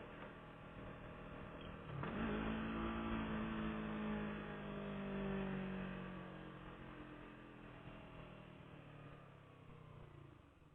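A motorcycle engine revs up and pulls away, rising in pitch then settling into a steady drone that slowly fades over several seconds.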